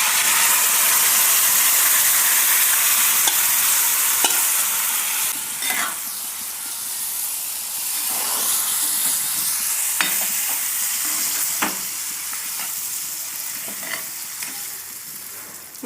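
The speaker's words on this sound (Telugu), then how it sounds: "చింతపండు పులుసు పోస్తున్నానండి" Tamarind juice poured into a hot tempering with asafoetida for tamarind pulihora, setting off a loud, steady sizzle with bursts of steam that eases slightly after a few seconds, punctuated by occasional stirring clicks; no voices.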